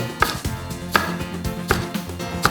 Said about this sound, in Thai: หั่นให้มันเป็นเส้น